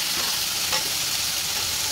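Fried potato pieces added to a pan of cooking jackfruit, a dense continuous sizzle with scraping stirs, close and loud, without any talking.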